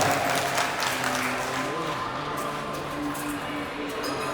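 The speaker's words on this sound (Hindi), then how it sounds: "ऐसे सभी खिलाड़ियों का सम्मान जोरदार तालियों के साथ होना चाहिए" Steady applause from an audience honoring para-athlete medalists at a Shirdi gathering, dense and sustained, slowly tapering over a few seconds.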